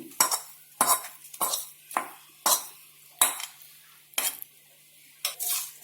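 Fried coriander leaves and cumin are stirred in a pan, with about nine sharp scraping strokes of a utensil against metal in a steady rhythm, close and clear over a faint sizzle, no talking.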